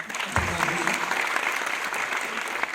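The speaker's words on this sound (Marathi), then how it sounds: "त्याच्यासाठी प्लीज जोरदार टाळ्या" Audience applause fills a Marathi film premiere show in Pune, a dense, steady burst of many hands clapping close and loud for the full stretch, with faint crowd murmur underneath.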